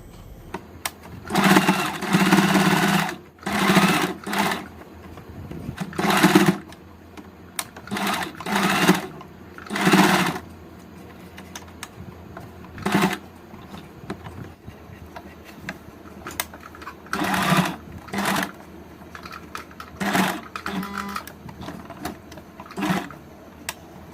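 A sewing machine stitches lace onto a nighty in repeated loud, close bursts of rapid whirring, separated by short pauses and faint handling sounds.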